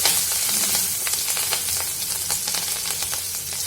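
Green chillies crackle and sizzle in hot oil with turmeric, a dense, continuous spitting hiss with scattered pops from start to end.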